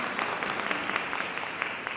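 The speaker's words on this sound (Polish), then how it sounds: "Ogromne brawa jeszcze raz dla naszej recytatorki." Audience clapping after a poem recitation at a Christmas carol concert in Kwilcz, a dense steady patter of many hands throughout, fairly close and even in loudness.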